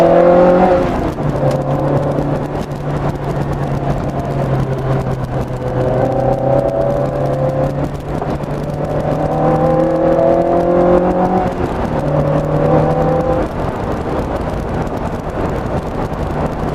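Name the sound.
Lotus Elise Sport 160 car driving on a bumpy road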